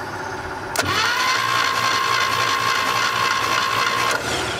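A seized 1962 American Rambler engine being cranked over, revived after years of disuse, giving a steady whirring drone with a sustained whine that starts abruptly and cuts off after about three seconds, loud and close.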